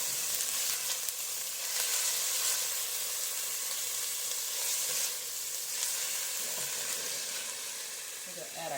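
Minced ginger sizzles in a frying pan for a chickpea stew, a steady bright hiss and crackle that holds evenly and eases slightly toward the end, close and continuous with no talking.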